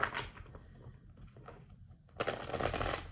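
Tarot cards being shuffled by hand, a crisp papery riffle at the start, softer rustling through the middle, then a louder, denser burst of shuffling toward the end, heard alone with no talk.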